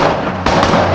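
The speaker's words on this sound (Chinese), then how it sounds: "枪声响起，男人身中子弹" A gunshot in an action thriller film cracks out as a single sharp, loud report partway through, over a dense, steady cinematic soundtrack with a low rumbling bed.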